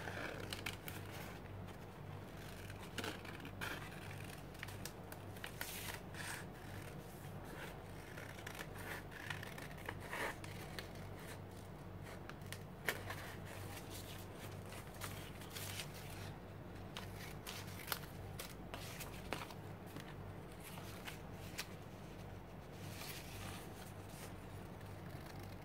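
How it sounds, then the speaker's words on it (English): Quiet, irregular snips and paper rustles as scissors cut through a thin napkin, close up over a faint steady hum. "I'm just roughly cutting it."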